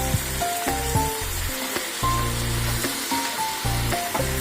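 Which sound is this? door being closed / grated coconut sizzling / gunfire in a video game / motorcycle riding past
grated coconut sizzling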